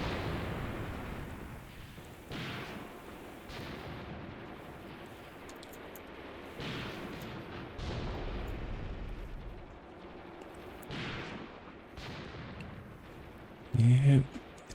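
Distant gunfire and artillery rumble through a Graviteam Tactics battle, with low booms arriving every few seconds and a louder, sharper burst near the end.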